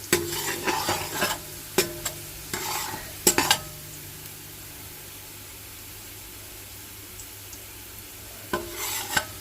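Curry powder browns in hot oil in a pot for Jamaican curry goat, with a soft sizzle beneath a few bursts of spoon scraping and stirring near the start and end and a quieter stretch between.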